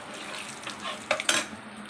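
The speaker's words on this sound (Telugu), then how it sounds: "ఒక 1/2 స్పూన్ ఇంగువ, కొంచెం కరివేపాకు. ఇలా బాగా ఫ్రై చేసుకోవాలి." Asafoetida and curry leaves frying in hot oil as a tempering for tomato pachadi, giving a low steady sizzle with a couple of sharp spits and crackles near the end, fairly quiet and close.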